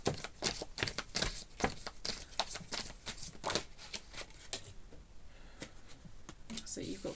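Tarot cards are shuffled and drawn close by in a steady, papery riffle and patter of rapid flicks that runs throughout, with a voice speaking at times.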